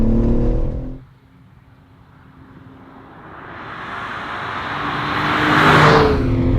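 A BMW M3's engine note cuts off, then a rising roar builds as the car speeds closer on the Goodwood race track, peaking loud and near before easing slightly.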